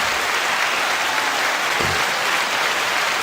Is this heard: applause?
yes